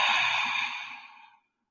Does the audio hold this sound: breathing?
yes